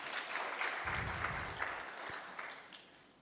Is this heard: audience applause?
yes